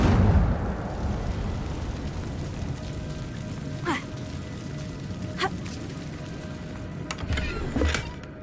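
Incendio fire spell cast in Hogwarts Legacy on PC, a fiery burst with crackling, roaring flame over a busy game background, followed by a few sharp whooshing flares near the end.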